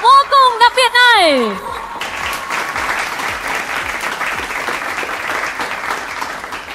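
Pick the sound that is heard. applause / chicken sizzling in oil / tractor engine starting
applause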